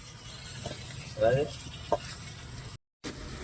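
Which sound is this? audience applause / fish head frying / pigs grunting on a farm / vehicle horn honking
fish head frying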